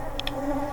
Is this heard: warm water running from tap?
no